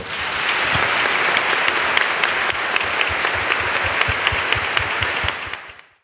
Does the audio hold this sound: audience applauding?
yes